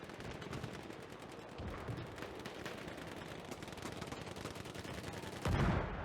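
Rapid gunfire in a 16v16 online shooter match, with dense overlapping automatic bursts and a heavier blast near the end, heard at moderate level without speech.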